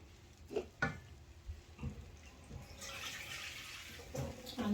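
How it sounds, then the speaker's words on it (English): Water poured into a pot of cooking spinach, a steady splashing, hissing wash that builds midway and continues close by, following a few soft knocks and clatters. "I'm going to put a little bit of water."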